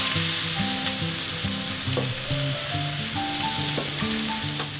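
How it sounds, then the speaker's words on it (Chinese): Veal strips searing over high heat in a pan for a red curry dish, giving a constant close sizzle beneath steady melodic background music. "开大火，用一点像煎的方式先把小牛肉先煎过"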